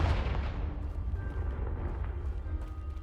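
A Confringo spell blast in Hogwarts Legacy leaves a heavy, rolling low rumble that fades steadily from loud to quieter. The sound is continuous, with no separate hits.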